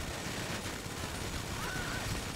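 Dense, sustained gunfire fills a GTA V shootout at a base against armored enemies, a continuous rattling wall of shots with a game sound rising faintly near the end.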